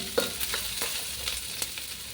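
Onions sautéing in a pan for duck caldereta, a steady close sizzle with a few light stirring scrapes and clicks, no voices.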